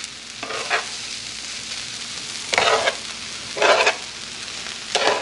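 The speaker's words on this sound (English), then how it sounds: "we're going to give it a good mix again, flipping it over and not so much stirring it" Food is mixed and flipped in a frying pan over a steady sizzle, with four distinct bursts of scraping and tossing spaced a second or two apart, close and fairly loud.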